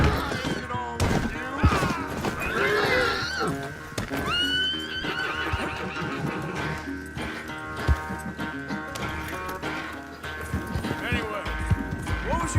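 Horse hooves clip-clop amid whinnies and busy game-like music and effects from Red Dead Redemption 2, with voices talking throughout.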